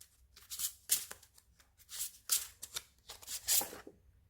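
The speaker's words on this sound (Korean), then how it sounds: "카드 하나 뽑을게요" Tarot cards being shuffled and drawn: a run of crisp riffling and slapping bursts, several quick flurries with short pauses between them, close and fairly quiet, with no voices.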